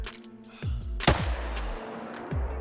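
A single loud, sharp rifle shot cracks at a bighorn sheep in the Alberta Askiy Ridge hunting reserve of theHunter, with softer thumps and a faint ambient bed before and after.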